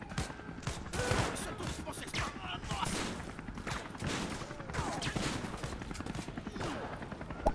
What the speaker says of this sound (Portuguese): trocar tiro com a polícia aqui é difícil demais, mano